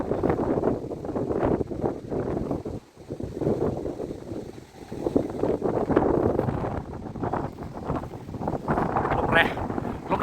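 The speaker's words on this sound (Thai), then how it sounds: "ลมแรง" Strong wind gusts buffet the microphone at a mountain viewpoint near a skywalk, a loud, uneven roar rising and falling throughout with a voice faintly present underneath.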